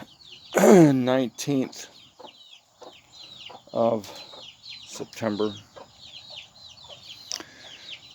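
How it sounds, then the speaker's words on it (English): Chickens cluck and chatter inside a chicken coop, with repeated close calls and quicker squawks scattered throughout, while someone speaks briefly between them. "I'm sitting in my chicken coop,"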